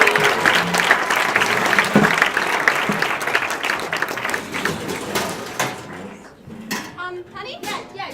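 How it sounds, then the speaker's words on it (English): Audience applause for a guest at a Valentine's Day comedy show, a dense crowd clapping loudly for several seconds before thinning out into scattered claps with some voices. "applause."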